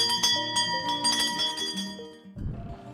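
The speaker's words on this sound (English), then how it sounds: "Let's ring the bell." A bell rings out in a quick run of bright, clear strikes with lingering ringing tones, then fades as room noise takes over.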